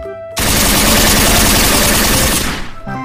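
A toy MP9 gun plays its electronic firing effect, a loud, rapid burst of automatic gunfire lasting about two seconds before cutting off, with faint tones before and after.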